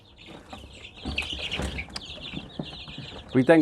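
Light Sussex chickens cluck and chatter nearby in a steady, busy flock, with soft calls overlapping throughout and a louder squawk at the end.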